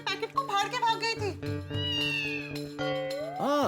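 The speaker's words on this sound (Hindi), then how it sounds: "लगता है ये वही बिल्ली है जो कुछ दिन पहले मेरे घर के बाहर रखे दूध के पैकेट को फाड़ के भाग गई थी" Cat meowing in a housing society, several drawn-out, rising and falling meows close by, heard alongside a man's speech.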